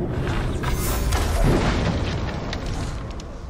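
Grog barrels bursting after a bow shot in Middle-earth: Shadow of War, a heavy, roaring explosion with crackling debris that swells and then rumbles on, loud and close, with no talking.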